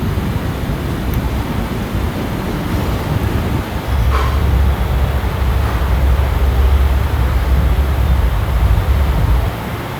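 Navajivan SF express train rolling slowly past a station for a signal, a continuous low rumble and rushing wind noise heard from on board, steady and fairly loud throughout.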